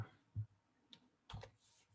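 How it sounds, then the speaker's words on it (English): A few separate keystrokes on a computer keyboard while a port number is entered for a Raspberry Pi web server, quiet isolated clicks spaced unevenly over two seconds, no speech. "I will type in the port number"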